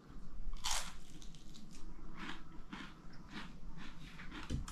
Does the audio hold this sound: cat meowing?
no